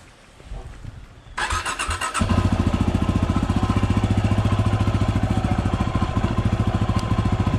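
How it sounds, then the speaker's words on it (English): Dual-sport motorcycle on Tusk DSport tires starting up and pulling away, engine catching after a short crank into a loud steady close rumble that holds through the rest. "So let's give this bike a little run out real fast."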